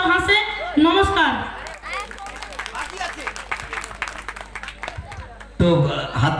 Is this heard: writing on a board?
no